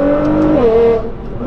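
A Nissan GT-R fitted with an aftermarket exhaust accelerates, its loud, close engine note rising then settling into a steady drone, with no voices over it.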